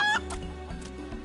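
A chicken in the video game Final Fantasy XIV gives a quick series of clucks, close and clear, short and alone.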